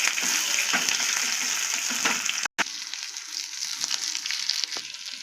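Steady loud sizzling of chillies and onions frying in hot oil in a pan, with a brief stir and a momentary break midway.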